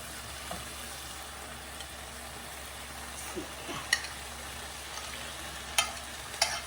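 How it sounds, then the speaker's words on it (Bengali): Mixed small fish dropped into a simmering sour tomato and olive curry, a low steady bubbling sizzle with a few soft splashes and clinks scattered over several seconds, quiet and close. "এখন আমি মাছগুলো দিয়ে দিই"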